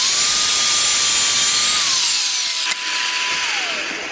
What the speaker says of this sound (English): I mirrored and cut these angles on my miter saw